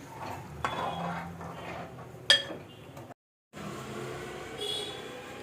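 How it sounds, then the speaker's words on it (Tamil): Masala is poured into simmering mushroom gravy and stirred with a metal spoon in a pot, soft scraping and a sharp clink against the vessel, faint and close, followed by a brief gap. "மசாலா ஊற்றி நல்லா மிக்ஸ் பண்ணிக்கலாம்"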